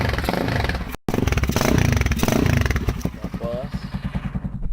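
A Kawasaki Z200 with an open pipe, 30mm open carbs and racing ignition coil revs up loud and close in short repeated bursts, with a brief cut and a voice speaking over the engine.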